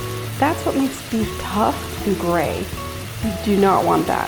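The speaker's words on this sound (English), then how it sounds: "Can you hear that sizzle? That's the sound of flavor." Lemongrass beef slices sizzle in a hot pan, a steady frying hiss under a voice talking throughout, with bursts of louder crackle as the meat hits the oil.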